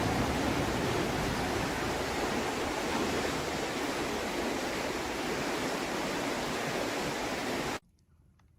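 River water rushing steadily at close range in a wild stretch of wilderness, a dense continuous roar of flowing current that holds evenly for nearly eight seconds, then cuts off abruptly to near silence.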